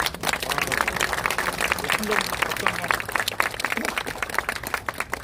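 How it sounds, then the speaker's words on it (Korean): A crowd of reserve Marines applauds steadily throughout outside the National Assembly, dense clapping with voices mixed in underneath, sustained and fairly loud. "예비역 해병대원 여러분 박수 한번 부탁드립니다"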